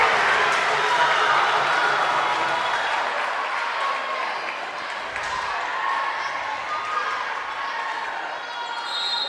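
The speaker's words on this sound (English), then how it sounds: "Very vocal crowd" A high school volleyball crowd in a gym applauds and cheers steadily, a dense wash of clapping and voices that slowly eases, with a faint announcer voice beneath.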